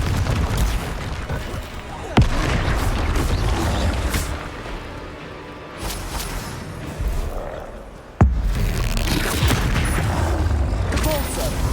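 Loud magical blasts from Confringo spells in Hogwarts Legacy, two sharp booming impacts with rumbling aftermath amid continuous combat noise, brief spoken spell shouts mixed in.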